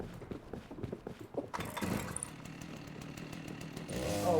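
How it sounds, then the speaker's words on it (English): A chainsaw in the game Rust, first some scattered clunks and handling noises, then the engine catches and settles into a steady buzzing drone that rises in pitch near the end, close and fairly loud. "Oh, one pull for the chainsaw and it went right away."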